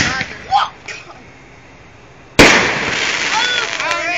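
Aerial fireworks from a 12-count consumer pack going off outdoors, with one sharp, loud burst midway followed by lingering crackle, after fainter distant pops; voices are faint in the background.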